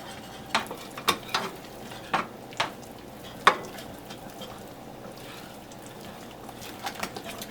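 Flour and baking powder being mixed into cottage cheese pancake batter in a bowl, with a series of soft close scrapes and taps from the utensil spaced across the first few seconds and then a quieter stretch.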